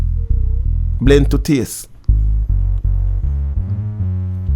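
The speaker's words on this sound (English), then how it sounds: "you can hear the low end starting to have some grit, and it's starting to be more pronounced" Bass audio with added distortion, its low end turning gritty and more pronounced, plays as sustained throbbing tones. A person talks over it briefly, with a short gap in the middle.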